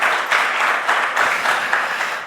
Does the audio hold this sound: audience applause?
yes